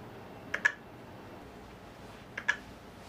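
Clicks from a trackball and an on-screen keyboard used in an occupational therapy session, two short pairs of quiet clicks spaced a couple of seconds apart over low room hiss.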